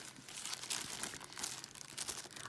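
Wrapping paper on a gift parcel crinkles and tears as it is pulled open, a close, continuous rustling crackle throughout at fairly low level.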